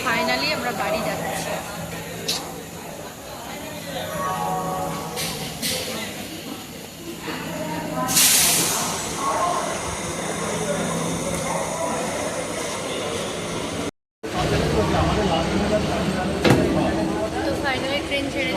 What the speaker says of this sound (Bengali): তো ফাইনালি ট্রেন ছেড়ে দিয়েছে।